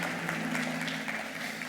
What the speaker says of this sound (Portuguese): Queria que você aplaudisse ao Senhor pela vida desses dois queridos.